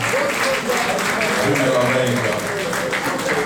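An audience at a ballroom event claps and cheers steadily for a pioneering honoree, a dense continuous wash of applause with voices rising through it.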